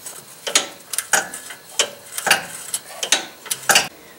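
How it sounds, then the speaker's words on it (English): Ratcheting socket wrench snugging ball joint nuts on a 2WD Dodge Dakota suspension, a run of quick metallic clicks in short uneven bursts, close and distinct with no talk. "Snug the ball joint nuts with the socket."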